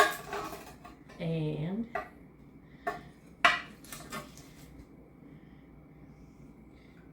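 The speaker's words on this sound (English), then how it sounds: "Dishing up the potatoes, which I cooked with some bacon and onion and some pepper" Potatoes cooked with bacon, onion and pepper being served, with a spoon scraping and clinking against a pot and dishes in a few sharp bursts, then quieter room tone; one brief spoken word.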